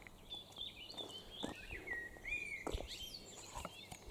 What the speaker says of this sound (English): And you can hear the bird life.